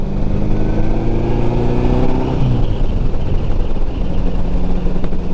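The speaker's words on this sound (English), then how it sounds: "the motors rev up in this very unique way" A 1954 Ariel Square 4 motorcycle engine revs loud and close, its steady roar climbing in pitch and then easing back before holding at a rumbling idle.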